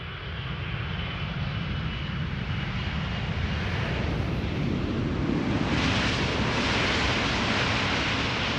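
Jet airliner on approach to land at Amsterdam Schiphol Airport, a steady loud broadband roar of engines that swells slightly toward the end, with no talk.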